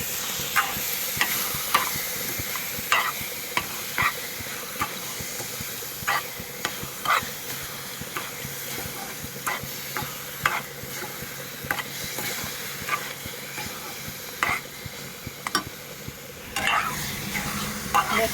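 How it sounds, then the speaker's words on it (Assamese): Sugar syrup sizzles and fries in a pan while a utensil stirs it, steady hissing overlaid with regular scraping strokes every second or so, close and moderately quiet. "মই খুব ভালকৈ ভাজি ল'ম।"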